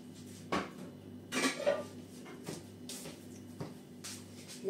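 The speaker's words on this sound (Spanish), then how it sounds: "que voy a buscar la sartén" Pots and a frying pan clank and knock in a home kitchen, several separate metallic bumps and scrapes at close range, moderately loud with short pauses between them.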